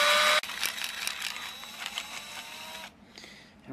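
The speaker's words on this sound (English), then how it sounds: "I'm going to take my drill, stick it right on the mark without slipping, and go in as straight as I can." An electric drill with a 5/16 inch bit bores into PVC pipe while building a PVC violin, giving a loud, steady whirring grind for several seconds that cuts off abruptly near the end.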